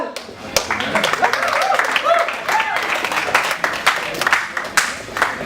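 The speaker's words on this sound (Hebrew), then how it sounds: "תנו מלא כפיים לגל" Audience at a West Coast Swing Jack & Jill dance competition clapping for an announced competitor, a steady burst of close, crisp handclaps with scattered louder claps and some voices underneath.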